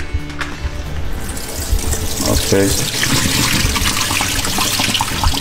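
Water carrying live goldfish pours steadily into a tabletop aquarium built from PVC pipe, a continuous close splashing and gushing with a voice speaking briefly over it.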